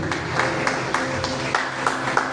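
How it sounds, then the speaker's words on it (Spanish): A church congregation claps in a brisk, fairly steady rhythm for a couple of seconds, with voices faintly mixed in. "Denle fuerte el aplauso a Dios"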